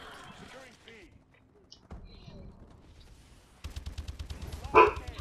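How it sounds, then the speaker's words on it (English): A pet dog barks at home, a short sharp bark near the end rising above a background of clattering game sounds and a talking voice. "there goes my dog barking, as usual"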